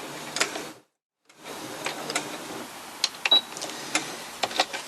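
Sewing machine chain stitching a run of fabric pieces for oven mitts: a close mechanical whirr with a steady rapid stitching rhythm, briefly cutting out for a moment before running on with small clicks and ticks.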